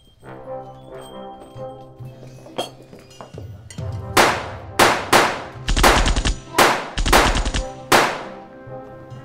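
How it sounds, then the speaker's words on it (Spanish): A run of loud, sharp gunshots in a Spanish-language film, several in quick bursts, booming out close by after a quieter stretch. "Se oyen como balazos, Adrián."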